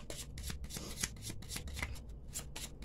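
Tarot and Gypsy fortune-telling cards shuffled by hand, a quick run of crisp riffling bursts repeating steadily and close, with no talk.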